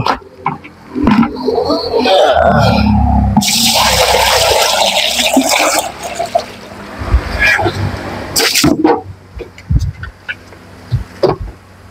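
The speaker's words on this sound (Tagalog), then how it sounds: "Lagyan natin ng tubig." Water gushes loudly into a washing machine or spin-drier drum under test for a weak-turning motor and gearbox, a strong rushing pour lasting a few seconds, then mechanical clunks and scattered bumps.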